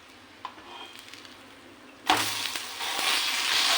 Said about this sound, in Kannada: ನೋಡಿ ಈ ಥರ ಕೆಂಪಾಗಿ ಎಷ್ಟು ಚೆನ್ನಾಗಿ ರೋಸ್ಟ್ ಆಗಿದೆ.